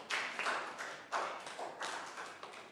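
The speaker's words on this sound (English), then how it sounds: "Big round of applause for Pak Bung" A small classroom group gives a student a brief, light round of applause, a few scattered claps and taps coming close in quick uneven bursts.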